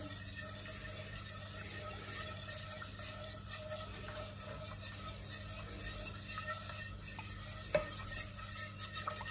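Béchamel of semi-skimmed milk, butter and flour being stirred in a pan, a quiet, steady scraping and swirling with a soft low simmer beneath and one light clink near the end.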